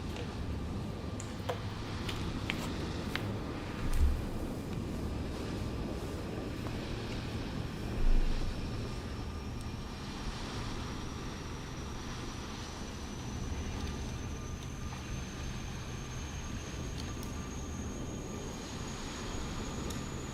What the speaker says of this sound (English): Wait for the APU to kickstart.